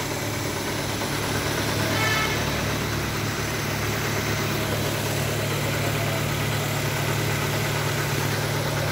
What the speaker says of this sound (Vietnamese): Máy rất là êm.